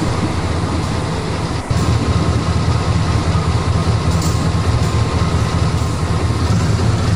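Steady, loud rumble of a diesel locomotive engine pulling into a station in a train simulator game, with a continuous low drone and a brief dip partway through, no voices.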